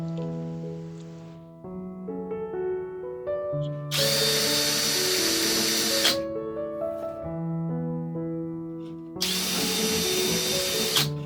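A power drill driving screws into a wall to hang a shelf at home, its motor whirring in two loud, steady runs of about two seconds each, with tonal music playing throughout.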